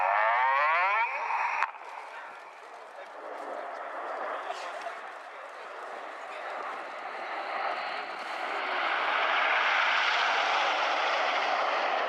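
Red Arrows jets thunder past at the RIAT 2016 air show, a loud broadband roar that holds throughout and swells again near the end, with a commentator's voice partly heard over it.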